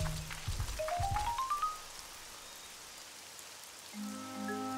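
A sudden rain shower in an animated dinosaur cartoon sets in as a steady, soft hiss of falling rain, following a few brief thumps and rising tones, with musical tones returning near the end.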